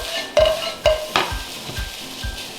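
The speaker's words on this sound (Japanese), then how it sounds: "中火ぐらいの 感じで炒めていきます" Jasmine-rice fried rice with Jinhua ham, stir-fried over medium heat, sizzles softly while a metal ladle strikes and scrapes the wok in several sharp knocks, close by.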